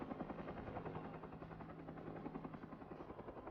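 A helicopter hovering over thick forest while lifting timber logs on a long line, its rotor thumping in a steady rapid pulse with a droning engine hum, loud and continuous.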